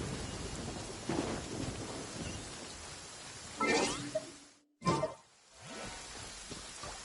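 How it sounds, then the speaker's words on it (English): Steady rain pours in the Genshin Impact video game. A loud thunder crack and rumble land near the middle, followed by a brief silent gap before the downpour resumes. "It always rains when I go on an adventure."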